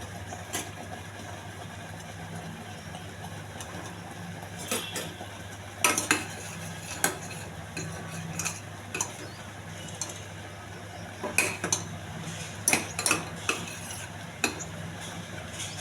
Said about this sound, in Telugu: మాడకుండా కలుపుకుంటూ ఉండాలి.